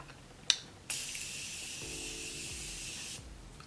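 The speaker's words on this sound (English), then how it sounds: "I always love to go in with my Morphe Continuous Setting Mist because it literally is a mist" Morphe Continuous Setting Mist sprays onto a face in one long, close, even hiss lasting over two seconds, preceded by a sharp click of the pump.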